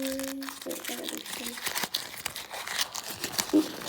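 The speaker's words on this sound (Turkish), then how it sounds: "Evet ve bir tane paket açalım." A folded candy-shaped surprise packet is torn and unwrapped by hand, with close crisp crinkling and rustling of paper throughout, alongside occasional soft sounds.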